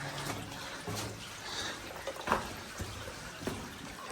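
Water runs and trickles steadily through an underground gold mine, a constant close wash of flowing water with a few soft splashes over the top.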